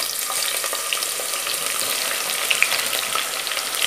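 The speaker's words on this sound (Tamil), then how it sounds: "பட்டை, நல்லா இதெல்லாம் பொரிஞ்சு வரணும்." Cinnamon and whole spices crackle in hot oil for country-chicken biryani, a dense, steady sizzle with scattered sharp pops throughout, close and fairly loud with no one speaking.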